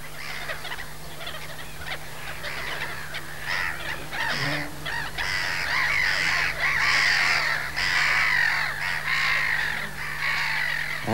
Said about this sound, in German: Eine Möwenkolonie.